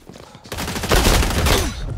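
AK rifle gunfire in the online shooter XDefiant, a dense sustained fusillade of rapid shots that builds after a brief quieter start and stays loud and continuous throughout.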